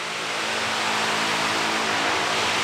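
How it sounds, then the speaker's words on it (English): A car engine with a cracked exhaust muffler roars steadily and loudly, holding a constant raspy, broadband drone for a few seconds with no speech over it. "now I got a cracked muffler."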